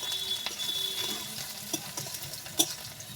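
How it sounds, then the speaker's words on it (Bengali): Chopped onions fry in a pan for chicken curry with a constant crackling sizzle, punctuated by several light scrapes and taps of a stirring spoon, close and without speech. "পেঁয়াজটা ভালো করে লাল লাল করে ভেজে নেব।"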